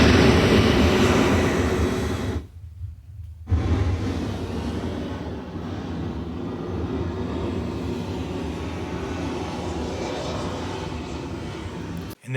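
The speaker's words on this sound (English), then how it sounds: "when the train passes through the tunnel" A train rushes through a tunnel in a Mission: Impossible film scene, a loud sustained rumbling roar that drops out abruptly for about a second near the start, then returns and continues steadily until it cuts off.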